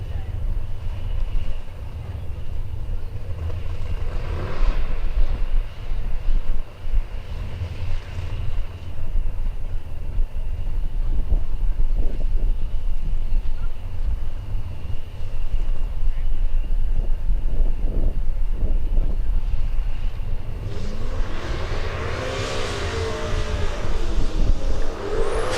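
Twin-turbocharged Coyote-powered drag car making its first pass at a drag strip, a loud sustained engine roar building and swelling near the end of the run.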